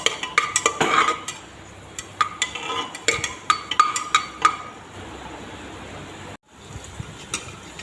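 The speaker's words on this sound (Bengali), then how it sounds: "রসুন কুচি দিয়ে দিলাম। এবার ভালো করে ভেজে নেব।" Chopped garlic frying in a pan along with green chilli and chopped onion, with a spatula repeatedly scraping and clinking against the pan over a low, steady sizzle, close by.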